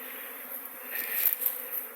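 Buckfast honeybees buzzing around a hive on an early March cleansing flight, a steady soft hum of many wings with individual bees passing close now and then.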